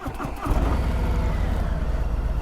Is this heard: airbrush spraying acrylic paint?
no